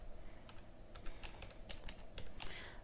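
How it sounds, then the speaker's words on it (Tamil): Keys tapped on a computer keyboard while entering Tamil text in Photoshop, a steady patter of soft clicks in short irregular bursts, close and fairly quiet over a low background hum. "இப்போ நம்ம டைப் பண்ணலாம்."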